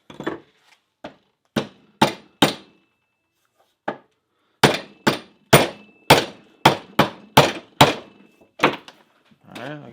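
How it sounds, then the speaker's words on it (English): A hammer tapping a punch through the head of a cheap 13-inch camp hatchet clamped in a vise, about fifteen sharp metallic strikes in irregular clusters with short pauses, close and loud, with no talking. "Put that in the vise and tap it on through."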